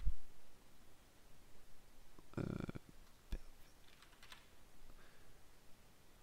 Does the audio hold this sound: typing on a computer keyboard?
yes